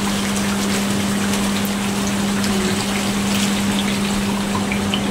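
Water is poured into a cooking pan while a family dish is being made, a steady close gushing splash with a faint hum beneath.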